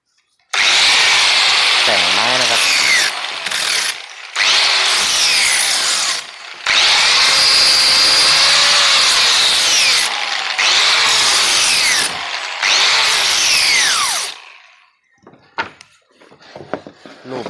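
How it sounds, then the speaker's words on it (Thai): Angle grinder with a sanding disc smoothing the wooden base of a van entry step, a loud continuous abrasive whine in long bursts broken by short pauses, then faint scattered handling noises once the tool stops. "โดยใช้ หินเกียร์ ตัวใบขัดนะครับ"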